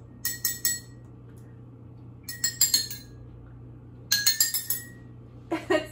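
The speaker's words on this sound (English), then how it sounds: "try and make a song with the water in your cups" Water-filled glass cups are tapped, giving clear ringing musical notes in short quick runs of four or five strikes, with pauses between groups over a steady low hum.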